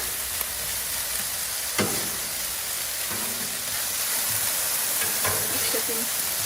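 Bacon sizzling on a Blackstone griddle, a dense, steady crackling hiss that fills the whole stretch, with a few sharp scrapes and clicks and someone talking briefly over it.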